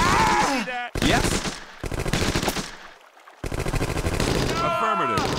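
Rapid machine-gun and rifle fire in a World War II video game set during the Omaha Beach invasion near Colleville-sur-Mer, loud bursts broken by short gaps, with shouted voices over the battle.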